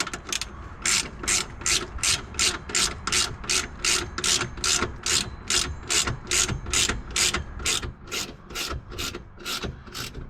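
A socket ratchet snugs a 14mm bolt with a stock washer into the rear suspension of a Toyota AE86, its rapid clicking strokes repeating in a steady rhythm, close and loud with no talking.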